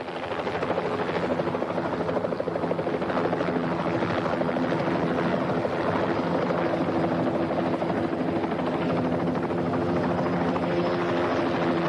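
A helicopter thunders overhead as it arrives at Pontypridd, its loud, steady rotor chop and engine drone filling the whole stretch without pause.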